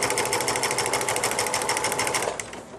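A home sewing machine runs steadily, stitching fabric held flat under the presser foot while sewing a princess seam; a fast, even mechanical chatter stays loud and close for over two seconds, then eases off as it slows to a stop.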